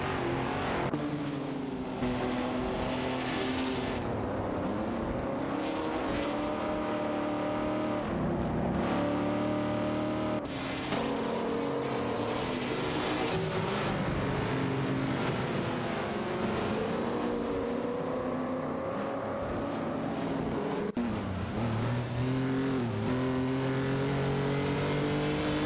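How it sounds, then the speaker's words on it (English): Race car engines in an AI racing video game, including a Nissan Skyline 2000 R71 and a Ferrari 212 Export, drone and rev continuously, their pitches rising and falling with upshifts as several cars scream along close together, loud and unbroken. "The battle for 24th place heats up between Captain Potato in the Nissan Skyline 2000 R71 and Kamikaze 38 in the Ferrari 212 Export."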